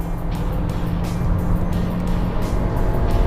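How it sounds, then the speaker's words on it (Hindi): A Suzuki Vitara set to snow/mud mode drives over a raw dirt track off-road, with a steady close engine and tyre rumble mixed with crunchy, gritty road noise throughout. "इसको मैंने स्नो मड मोड में डाला है और बिल्कुल कच्ची मिट्टी है जिसके ऊपर गाड़ी जा रही है"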